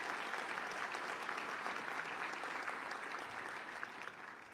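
Sustained audience applause at a religious liberty prayer breakfast, a dense, steady wash of clapping at moderate distance that continues evenly for several seconds before easing slightly.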